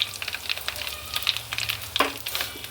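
Turmeric powder goes into hot oil with mustard seeds and asafoetida while making garlic pickle, giving a continuous close crackling sizzle with sharp pops and a brief stirring scrape.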